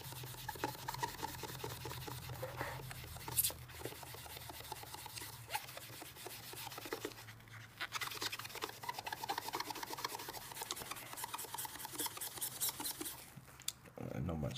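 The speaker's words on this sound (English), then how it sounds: "just turning the sponge around again, using a dry side, but there's a little bit of alcohol left on the game itself" A sponge dampened with alcohol scrubs marker off a plastic SNES game cartridge, giving a steady close-up rasping rub that runs continuously with brief pauses.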